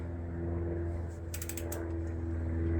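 Rear wheel hub of a Trek Verve+ e-bike ticks with a fast, steady ratchet clicking from the pawls as it spins, fairly quiet and close, with a few brighter metallic clicks in the middle.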